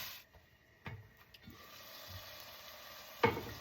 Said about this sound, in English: you're gonna wanna chop this up some and get it brown